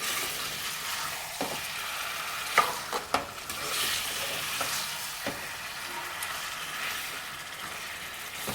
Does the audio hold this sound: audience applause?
no